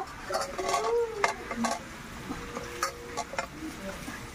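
Fried lentil dumplings (bori) and potatoes stirred in a pan for a tilapia fish curry, a spatula scraping and clinking in short irregular strokes over a light sizzle, fairly close, with no talk.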